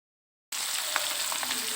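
A taro and fish curry mixture sizzles and fries in a pan, a steady close crackling hiss that starts abruptly after a moment of silence.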